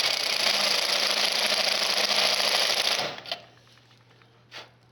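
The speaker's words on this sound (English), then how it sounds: "I'm going to use my good old step bit on my Ryobi, and we'll see if we can" A Ryobi drill fitted with a step bit widens a hole for an HP23A circuit breaker in a garage. It gives a loud, steady grinding whir for about three seconds, then stops, followed by a few faint clicks.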